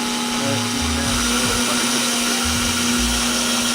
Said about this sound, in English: Now we're just drilling the holes in the bumper.